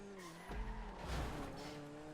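A Coquette Classic sports car in GTA Online roars with a steady, close engine note while its tyres skid and squeal in two surging bursts, with no one talking.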